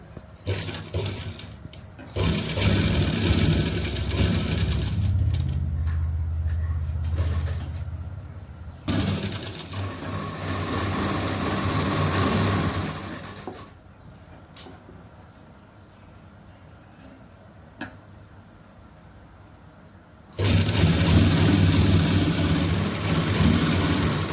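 A sewing machine stitches the lining of a salwar, its motor whirring in long, steady runs that stop and start, with a quieter lull before a loud final burst.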